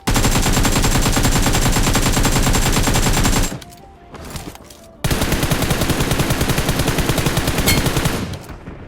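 Rapid automatic gunfire rattles loudly and up close in a battle royale game, one long sustained burst, a brief gap with scattered shots, then another long burst that tails off at the end.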